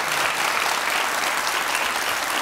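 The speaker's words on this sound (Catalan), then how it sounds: "Podeu aplaudir, podeu aplaudir." Steady applause from an audience at a Catalan book event, many hands clapping in a dense, even wash that holds at full strength throughout.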